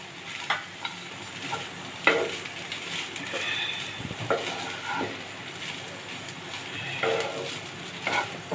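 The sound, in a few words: egg, paneer and rice frying with spices in a pan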